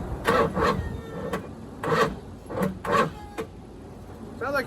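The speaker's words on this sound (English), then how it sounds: "Sounds like my starter's dying." A Corvette engine cranks over on a weak, dying starter, sounding as a few slow, labored bursts with gaps between them, close by, with a short faint whine near the end.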